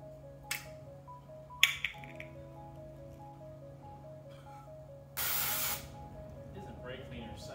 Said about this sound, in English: Isn't brake cleaner such a great invention?